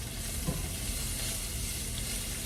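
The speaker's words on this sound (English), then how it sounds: "I'm gonna stir that up" Salted food sautés in a pan while it is stirred, making a steady loud sizzle with faint spoon scrapes underneath, and no one speaks.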